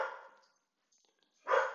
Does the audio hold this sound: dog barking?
yes